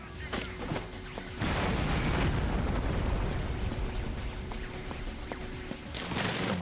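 A grenade blast in GoldenEye: Rogue Agent, a broad booming burst that swells at about one and a half seconds and rumbles on loudly, with a second crack near the end under game ambience.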